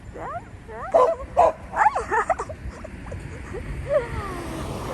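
A pet dog named Mila out on a long walk, giving a string of short yips and whimpering barks in quick bursts, fairly close, with brief human speech around it.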